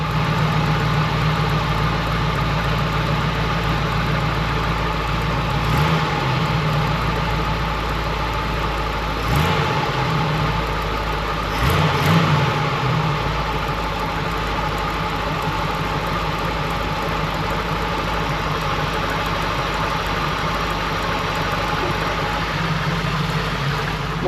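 A 1955 Chevy Tri-Five's engine idles steadily at around 600 rpm, a continuous low rumble filling the whole stretch with a couple of brief louder blips partway through.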